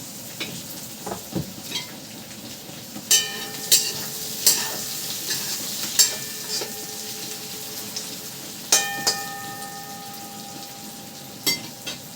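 Finely chopped potatoes and carrots frying with golden onions in a pan, a steady sizzle broken by repeated metallic scrapes and clinks of a spoon stirring every second or two.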